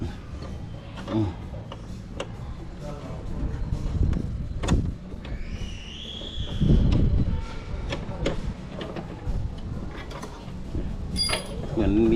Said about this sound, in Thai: ถอดน็อตนี่แหละ นานแต่ถอดน็อต